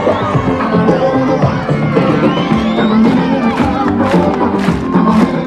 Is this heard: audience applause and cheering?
yes